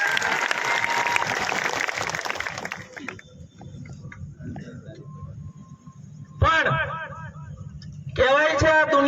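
Loud clapping from a crowd at a community gathering honouring party workers rings out for about three seconds, then dies away as a voice speaks over a quiet hall.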